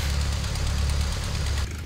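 A Piper Pacer aircraft engine running in a flight simulator game, a loud steady low drone with a rough knocking texture throughout, dropping slightly right at the end, no talking.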